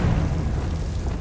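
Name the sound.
Confringo spell explosion in a Harry Potter video game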